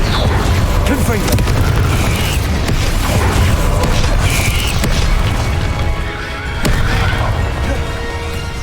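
Spell casting in the video game Hogwarts Legacy, a dense, loud wash of magical blasts, crashes and rumbling impacts with creaking mechanisms, continuous across the stretch with game music underneath.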